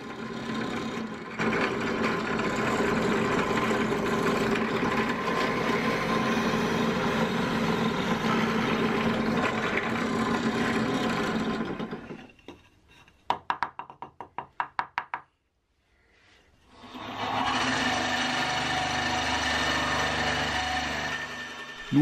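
A power drill runs loud and steady for about twelve seconds drilling a countersink for a screw head, then stutters in short bursts and stops, before a second sustained pass drilling a through hole for an M10 bolt.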